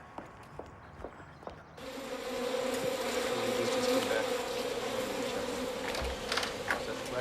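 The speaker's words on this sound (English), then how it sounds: "He's supposed to be studying hive characteristics of European versus African honeybees." Dense, steady buzzing of many honeybees, European and African, near a hive, swelling loudly after a quieter opening with a few soft thumps and lasting to the end without talk.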